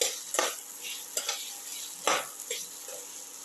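Ginger, onion and tomato sauté in a pan with a soft sizzle, broken by several sharp scrapes and clinks as a spoon stirs the mix against the metal.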